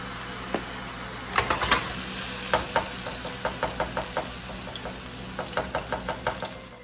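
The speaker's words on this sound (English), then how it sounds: "Ground turkey going into the pan." Ground turkey seasoned with Italian seasoning fries in a pan, a low sizzle beneath a steady series of close, rhythmic knocks and taps from a spoon against the pan.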